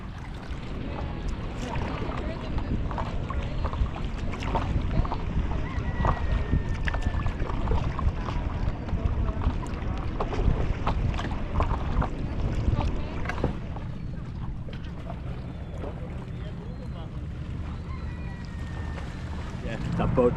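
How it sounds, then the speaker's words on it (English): A boat passes on the sea off Sardinia at sunrise, a low steady engine rumble and wash heard from a paddleboard amid wind noise, fading toward the end. "Yeah, that boat just went past"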